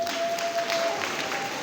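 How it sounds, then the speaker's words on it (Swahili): Children at a church gathering clap together in a short burst of fairly close applause, with a faint tone running underneath. "Haya, makofi."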